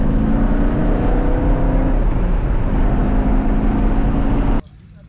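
Nissan 350Z driving a hot lap on a race track, engine roaring loud and steady with a continuous rumbling drone and tonal whine, cutting off abruptly near the end to a quieter hush.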